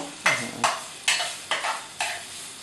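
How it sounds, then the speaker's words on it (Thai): A spatula scrapes and tosses American fried rice in a hot pan five times in a steady rhythm, each stroke bursting into a close, loud sizzle. "กำลังผัดอยู่เลย"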